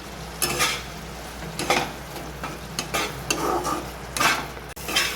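Fried potatoes are stirred in a pan with ginger, onion, garlic and spices, giving soft, irregular scraping strokes over a low, steady sizzle, close by and with no talking.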